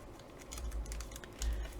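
Scissors trim excess washi tape in a few quick, soft snips and clicks, close and quiet, clustered over under two seconds.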